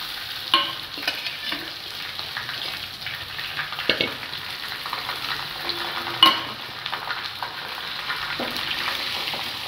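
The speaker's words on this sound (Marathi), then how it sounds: "साबुदाणा व्यवस्थित परतून घ्यायचा आहे।" Soaked sabudana (sago pearls) being sautéed and stirred in a pan for sabudana khichdi: a steady, fairly close frying hiss with scraping stirs and a few sharper clicks, no talking.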